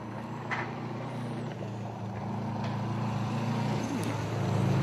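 Rally car number 70, crewed by Tom Billington and Ben Goodings, runs through the Elibank forest stage with a possible puncture. Its engine drones steadily at a moderate distance and grows slightly louder toward the end.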